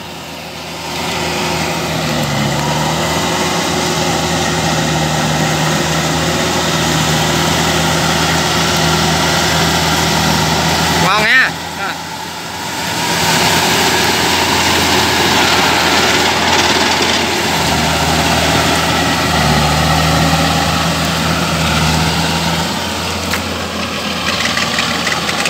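An improved tiller converted from a tractor runs steadily with a continuous engine drone and low rumble, briefly dipping around the middle before resuming at a constant loud idle, with no talk.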